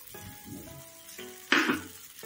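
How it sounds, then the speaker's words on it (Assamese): Onions sizzling briefly in a hot pan for a dry fish and spinach chutney, with a soft steady fry and a louder burst of sizzling and stirring near the end. "এয়া এতিয়া পিঁয়াজৰ লগত অকমান সামান্য ভাজি ল'ম, বেছি নাভাজো।"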